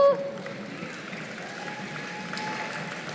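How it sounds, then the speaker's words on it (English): An audience at a FIRST Tech Challenge robotics state championship in Oregon applauds the event volunteers, producing a steady wash of clapping throughout the short stretch. "So can we just give them a round of applause?"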